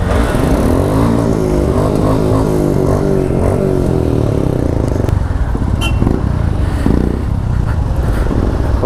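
A group of about fourteen motorcycles starting up and revving together on a group ride, loud and close, with overlapping engine roars rising and falling and some rattling clatter.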